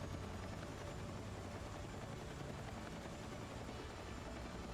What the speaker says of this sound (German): Oh, Hubschrauber, komm.